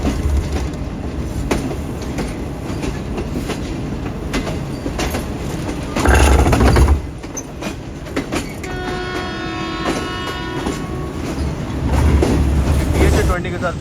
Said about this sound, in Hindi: अप्रोच बना रही है ट्रेन